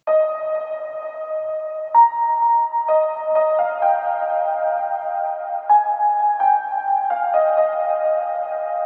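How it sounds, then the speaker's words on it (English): A soft, sustained piano melody of gentle tonal notes, an intro top line for progressive house breaks, plays alone, with chords shifting every second or so at a steady, calm pace. "soft piano melody, I would say an intro top melody"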